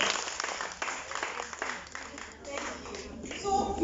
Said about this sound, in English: With a round of applause for yourself